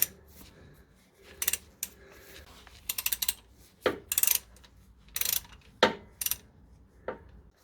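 A ratchet works loose the drain plug on a manual transmission, heard as quiet, close bursts of rapid clicking separated by short pauses.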